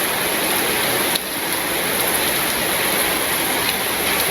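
Steady, dense rain pours down in a rural Bangladesh village during the rainy season, a continuous hiss of drops on surfaces with no pauses, close and fairly loud throughout.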